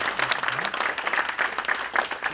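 Audience applause for a consul general at a lecture event: dense, steady clapping from a full room throughout, without talk.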